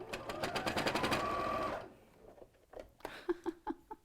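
A sewing machine stitches in a fast, even patter for nearly two seconds, then stops abruptly, followed by scattered soft clicks and handling noises nearby.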